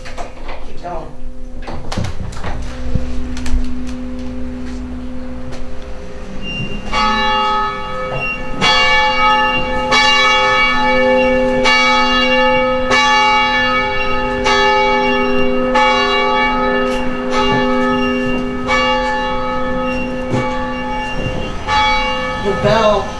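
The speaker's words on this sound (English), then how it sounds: "Here we have the bell and the bell tower." Church bell rung by pulling a rope in an abbey bell tower, with loud repeated strikes ringing out in a steady rhythm and a long, humming resonance, while people talk nearby.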